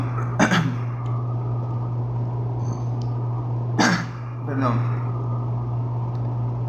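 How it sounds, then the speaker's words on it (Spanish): Two or three harsh coughs from a preacher during a Spanish-language church sermon, separated by a few seconds over a steady low electrical hum, with no talking. "perdón por tanta tos"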